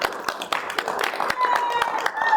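An audience at a first aid mini class claps for a presenter, a scattered run of sharp, uneven hand claps, fairly close and moderately loud.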